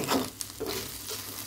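Small fish fry in a pan with a quiet, steady sizzle and faint crackles, punctuated by soft stirring sounds.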